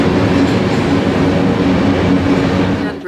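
A passenger train rolls steadily past, loud and close, with a continuous rumbling rush and low harmonic hum of the carriages holding throughout before easing slightly at the end.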